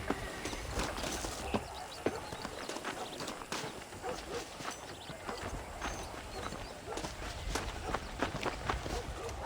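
Horse hooves clip-clopping at a walk in the Western video game Red Dead Redemption, a steady close rhythm of hoof strikes on hard ground with a few sharper hits, quiet overall.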